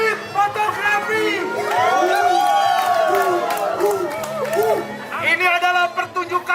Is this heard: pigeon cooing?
no